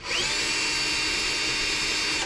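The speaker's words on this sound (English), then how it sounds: "I'm going to now drill this return line blank out" A power drill whines loudly and steadily at close range for a couple of seconds, drilling out a return line blank aboard a sailboat, high-pitched and continuous with no talking.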